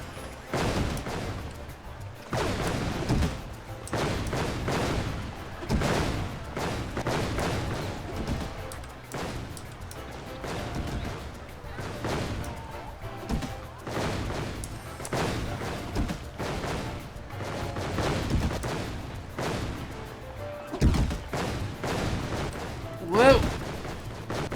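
Bombs going off in the Final Fantasy XIV: A Realm Reborn game, a rapid series of booming blasts repeating throughout amid battle noise, with someone talking over them.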